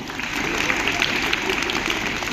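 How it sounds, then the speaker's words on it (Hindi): An audience at a school gathering applauding college students: dense, continuous clapping from many hands at an even level throughout. "उनके लिए भी ताली बजा दो"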